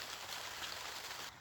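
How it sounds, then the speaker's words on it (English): Rain patters steadily on the plastic skin of a polytunnel, a dense, even hiss of drops heard from inside with no talking. "although it's raining outside, I could come out here no problem"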